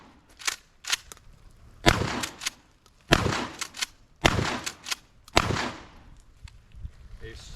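A Mossberg 590 shotgun fires a series of loud, sharp blasts outdoors, spaced a second or so apart with some quicker pairs, each ringing briefly before the next.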